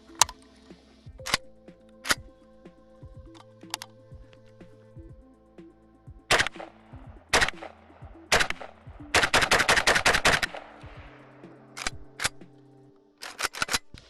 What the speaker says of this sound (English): So let's shoot this thing.